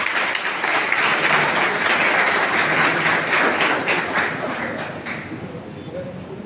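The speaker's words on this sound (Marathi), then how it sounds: "या सर्व महामानवांच्या चरणावर एकदा आपला जोरदार टाळ्यांचा गजर." An audience in a school hall breaks into loud, sustained applause that holds steady and slowly tapers near the end, with a voice speaking over it.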